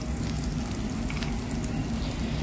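Chopped ginger, green chillies and onion hit hot oil in a pan for Kerala-style prawn biryani, a loud, dense, unbroken sizzle close up with no voices.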